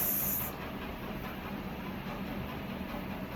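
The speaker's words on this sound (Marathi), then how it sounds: "बापरे, तडका बसतोय." Sesame seeds tempering in hot oil for a cucumber thalipeeth, giving a steady, dense sizzling hiss that stays loud and even throughout, with a brief brighter burst at the very start.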